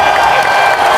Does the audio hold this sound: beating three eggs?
no